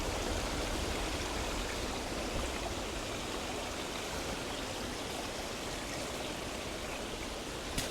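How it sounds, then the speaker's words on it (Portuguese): A stream flows along a forest trail near Paraty, a constant, even rush of water that stays close and steady with no talking. "É, tem bastante riacho."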